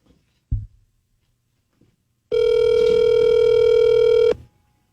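A mobile phone rings in a bathroom, a loud sustained electronic ringtone lasting about two seconds, heard fairly close after a faint knock, then it stops.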